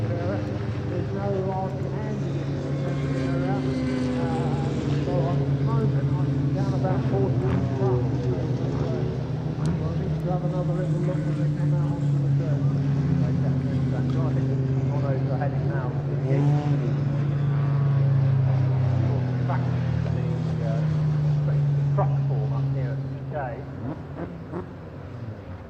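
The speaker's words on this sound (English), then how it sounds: "we will bring on the trucks" Racing trucks at Thruxton Circuit roar around the track in a British Truck Racing Championship race, a steady loud engine drone with rising and falling pitch, with commentary talk running over it.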